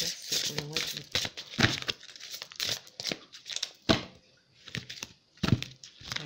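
Tarot cards are shuffled with crisp, rapid riffles and rustles in a series of bursts, heard up close while someone speaks in French.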